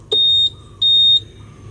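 A Honda Vario 150 scooter gives two loud, steady electronic beeps as it is started, each lasting about a third of a second with a short gap between them, clear and close with no talking.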